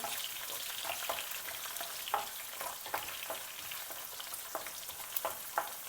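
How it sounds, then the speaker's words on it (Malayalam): Garlic sizzles in hot oil while being sautéed for a sardine pickle, a steady bright frying hiss broken by sharp clicks and scrapes of stirring throughout. "അരക്കപ്പ് വെളുത്തുള്ളി ഇട്ട് വഴറ്റിയെടുക്കാം വെളുത്തുള്ളി ഒന്ന് വഴറ്റി വരുമ്പോൾ"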